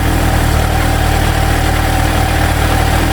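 Motorcycle engine with Mikuni BDST 38 carburetors idling steadily during carburetor adjustment, a loud, close, constant low rumble with an even pulsing throb and no talking.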